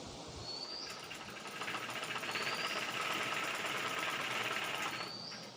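A sewing machine stitches baby frock fabric in a steady, fairly faint hum with a rapid rhythmic pulse that swells slightly midway and runs on alone.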